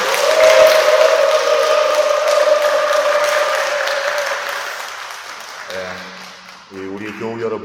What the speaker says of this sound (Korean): 우리 교우 여러분들의 함성 소리는 언제 들어도 참 좋습니다.